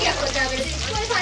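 Onion frying in a pan, a dense, loud sizzle with a brief stir partway through.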